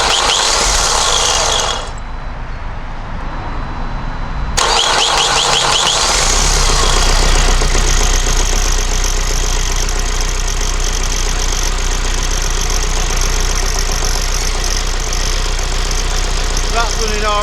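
Vauxhall Vivaro 2.0 van engine turning over and settling into a steady, loud idle after a brief quieter pause, heard up close in a workshop setting.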